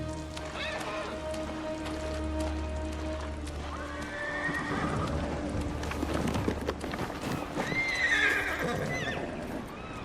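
Horse from the PS4 game Ghost of Tsushima Director's Cut, wearing armor: a close, loud whinny and a later neigh ring out over steady hoof clip-clop and running, with soft rain-like patter and game ambience.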